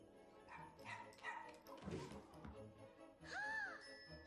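A dog barks in short, scattered yips at low level, followed by a brighter whining cry near the end, set against faint background music in a French-dubbed Christmas film scene.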